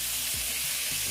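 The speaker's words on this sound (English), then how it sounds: "I'm gonna flip them over again." Chicken breasts sizzle and fry in a pan while being flipped over, a steady close frying hiss with soft turning scrapes, no talking.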